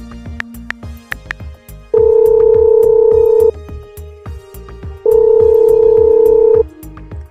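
An animated telephone rings for a husband whose wife is calling: two long, loud electronic ring bursts separated by a short gap, with light clicking in between and no talking.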